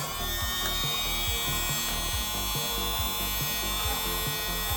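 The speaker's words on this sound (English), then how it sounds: "I made sure that the shop vac I bought still functioned as a shop vac" A small shop vac runs steadily with a close, loud motor whine and a fast regular pulsing flutter that holds unbroken throughout.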